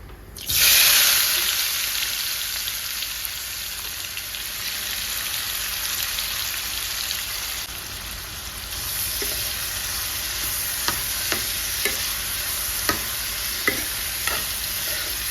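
Onions dropped into hot oil in a pan burst into a loud sizzle, then fry steadily while a utensil scrapes and taps the pan in regular strokes toward the end.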